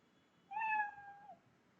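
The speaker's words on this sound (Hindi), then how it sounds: "ये बिल्ली की आवाज़ है" A single clean cat meow from the Scratch programming sound library plays alone, rising briefly then trailing off with a slight downward bend, with quiet around it.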